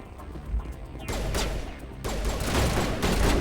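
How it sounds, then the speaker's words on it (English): Two sniper rifle shots in the Mass Effect game, a pair of loud, close bursts with a sharp attack and a long, noisy tail after each one, with no talk. "My sniper does 2 bullets with 1 click."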